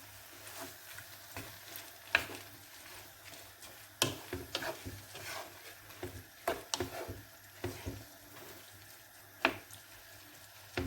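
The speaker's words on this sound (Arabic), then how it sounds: "دابا غادي نحاولوا نحركوهم هكذا باش ندمجوا العناصر بيناتهم" A seafood paella is stirred in a pan: quiet sizzling frying under scattered clicks and scrapes of the utensil against the pan, irregular and close, with no talking.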